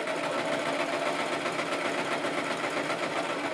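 A sewing machine stitching fabric hums along in a steady, fast mechanical whir, close and continuous with no pauses.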